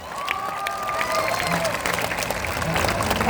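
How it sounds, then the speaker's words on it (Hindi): A crowd claps and cheers at a political party's founding-day gathering, loud continuous applause with shouts rising through the short stretch. "इनके लिए ताली बजाइए जोर से।"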